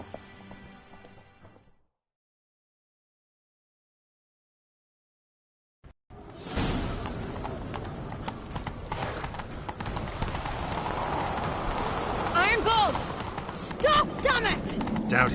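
Rapid clip-clop of a galloping horse in the video game The Witcher 3: Wild Hunt, starting after a silent gap and continuing steadily and close, with game dialogue spoken over it.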